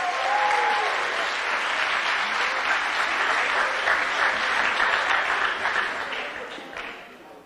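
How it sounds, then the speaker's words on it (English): Audience applause at a secondary school graduation ceremony for students of a grade 5 class, dense and steady throughout before tapering off near the end, with faint voices underneath. "one more round of applause for the students in 5A"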